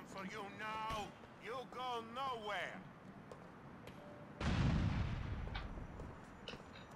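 A grenade blast in the video game GTA IV: a sudden loud burst with a rumbling tail partway through, preceded by someone talking over the game.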